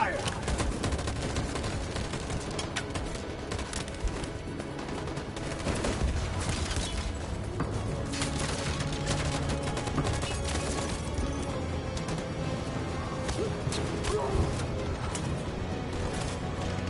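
Dense, sustained gunfire in the video game Detroit: Become Human, rapid overlapping shots and bursts filling the whole stretch, loud and close, with shouted voices mixed in underneath.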